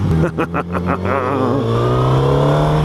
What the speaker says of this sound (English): I do love the growl of this bike.